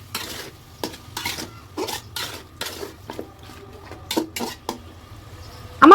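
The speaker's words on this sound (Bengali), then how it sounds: "কিছুক্ষণ আমি মাংসটা ভেজে নিব।" Chicken pieces salted and frying in a pot for biryani, stirred with a metal spoon that scrapes and clanks in repeated close strokes over a low sizzle, with a louder clatter at the very end.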